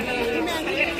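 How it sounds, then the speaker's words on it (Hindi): Busy crowd chatter at Janpath market in New Delhi, a dense, steady babble of many voices close around. "देखिए फ्रेंड्स कितनी भीड़ है मार्केट में"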